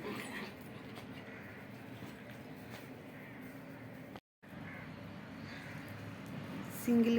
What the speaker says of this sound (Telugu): వచ్చేసాయి పప్పీస్.